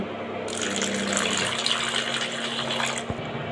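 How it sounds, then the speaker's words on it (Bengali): Water poured from a vessel into a pan holding momo sauce ingredients, a steady close gushing splash lasting about three seconds, with a faint clink near its end. "এবার আমি এখানে অল্প পরিমাণ মতো জল দিয়ে দিচ্ছি।"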